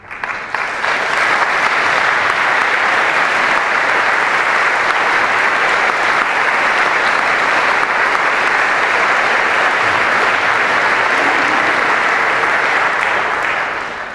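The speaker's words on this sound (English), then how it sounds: "I didn't want that applause just to be for me" Loud, sustained audience applause filling a school chapel after a student speech, dense and continuous for the whole span with no talking over it.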